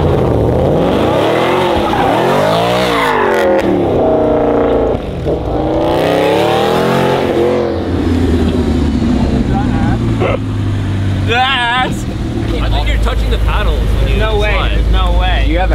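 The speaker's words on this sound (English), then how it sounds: "We're gonna do a skid." A car engine revs hard in first gear and the tires squeal through a skid, the screech rising and swerving, followed by a loud roaring acceleration, with excited voices talking throughout.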